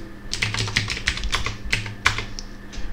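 Quick, uneven clacking of a computer keyboard as a password is typed at a command-line login, about eight crisp keystrokes over three seconds, close and clear with no talking.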